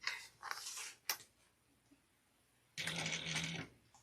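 A sewing machine stitches a simple fabric pouch in short bursts: two quick runs, a sharp click, a pause, then a longer run close to the mic.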